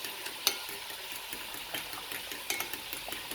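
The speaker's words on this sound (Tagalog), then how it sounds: "Ihalo mo pati ang parmigiano" A utensil stirs beaten eggs and parmigiano into spaghetti carbonara, making a soft, close sizzle with faint scraping strokes and a couple of light clicks against the pan, quiet and without speech.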